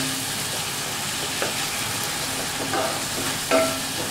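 Spice paste (masala) fries on a low flame in a pan for prawn malai curry, a constant close sizzle with a few soft stirring scrapes.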